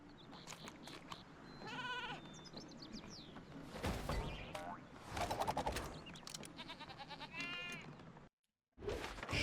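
Sheep Creep enemies in the Skylanders Trap Team video game give repeated wavering bleats amid busy game effects and music, loud and close, with a brief dropout near the end.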